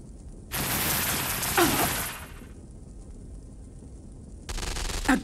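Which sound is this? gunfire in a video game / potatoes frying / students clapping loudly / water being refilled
gunfire in a video game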